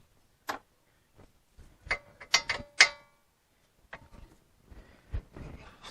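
Several short ratchet clicks and metallic taps from loosening 13 mm front hub assembly bolts on a 2012 Chevy Traverse, in scattered bursts with pauses between, close and fairly quiet, with no talking.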